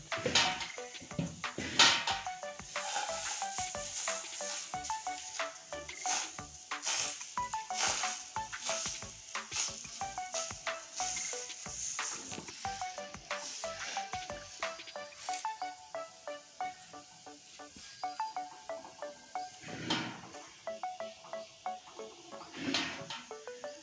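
Gola roti, a batter flatbread, frying on a gas stove, with a continuous close sizzle and frequent sharp scrapes and taps of a spatula against the pan throughout.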